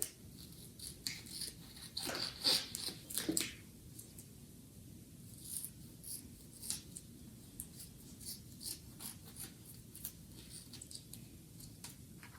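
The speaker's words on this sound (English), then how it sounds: "I'm just going to trim up the tape." Scissors snip and trim tape on a handmade paper-marbling bookmark, a cluster of sharp close cuts early on followed by sparse, faint snips and rustles.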